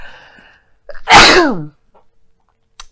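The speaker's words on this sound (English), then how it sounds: "I don't know why I'm sneezing so much" A single loud, explosive sneeze with a breathy intake before it, followed by quiet.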